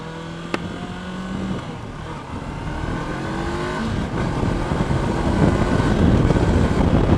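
A 2017 Honda CB500X motorcycle engine accelerates, a close, steady drone that builds gradually louder and rougher over the run with no one talking.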